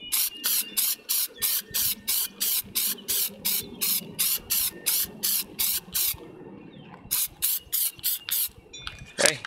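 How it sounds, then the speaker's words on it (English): Rapid short bursts of Plasti Dip aerosol spray hiss repeatedly in a steady rhythm, close by, on a windy day, with a brief pause before several more sprays. "Make sure you shake up your can and test spray it."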